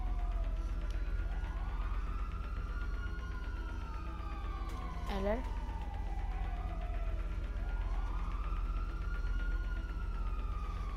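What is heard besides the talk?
police car siren passing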